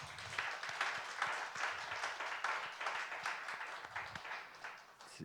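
Congregation at a Friday late-night church prayer meeting applauding in welcome, a steady, even wash of many hands clapping at a moderate distance for the whole stretch.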